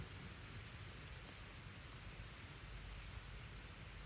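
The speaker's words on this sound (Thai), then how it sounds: "มันตกพี่น้องฝนตกตอนนี้เนาะ" Steady rain falls at night outdoors, a dense, even hiss of drops that runs unbroken and fairly soft, with no voices.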